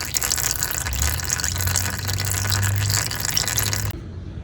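Oil drains from a 2012 Polaris Sportsman 400 HO ATV during a fluid change, a steady close pouring gush with a low gurgle, loud and continuous before it cuts off abruptly near the end, no voices.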